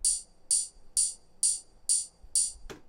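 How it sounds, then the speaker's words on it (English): Six evenly spaced UK garage ride cymbal samples ring out in a steady rhythm, bright, chimey and shimmering, each decaying quickly, followed by a short thump. "Rides usually have a very high resonant sound"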